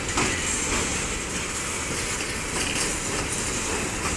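BNSF 9023 freight train rolls through Effingham, Illinois, a steady loud rumble and rattle of cars and wheels passing close by, with no voices.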